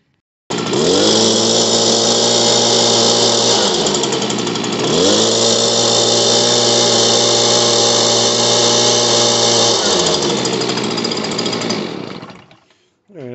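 A Stihl BG86 leaf blower's two-stroke engine runs loud and close after a carburetor repair, revving up and down between idle and higher speed a few times before shutting off.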